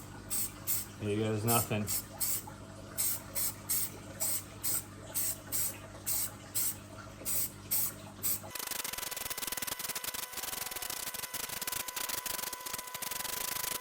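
An aluminium tinny boat hull is spray painted with a series of short, rhythmic hissing bursts, close by, followed by a long continuous spray. Someone speaks briefly near the start.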